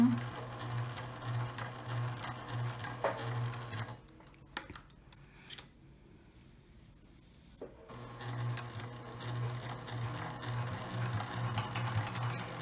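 A sewing machine stitches a fabric face mask in rapid steady bursts, pausing for a few seconds with small clicks as the fabric is turned, then resuming, close and moderately quiet with no talk.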